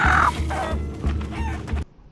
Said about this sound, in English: They're gonna kill this chicken.